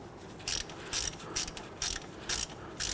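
A hand ratchet snugs down the bolt on a front ABS wheel speed sensor of a 2011-2015 Kia Sorento, giving six short, crisp bursts of clicking spaced evenly about half a second apart, close up with no talk.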